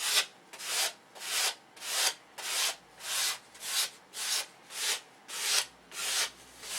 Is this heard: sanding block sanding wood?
yes